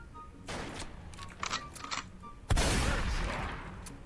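A video game gun firing: a few scattered shots early on, then one loud close blast that rings out and slowly decays, with faint game ambience underneath.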